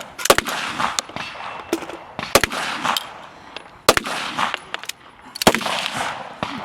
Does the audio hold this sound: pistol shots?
yes